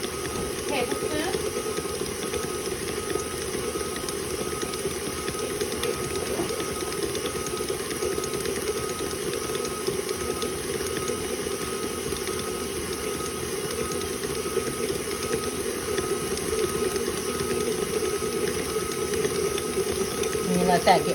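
An electric mixer churns bacon, chive and ranch cheeseball ingredients with Worcestershire sauce, a steady whirring mechanical drone running unbroken and fairly loud throughout.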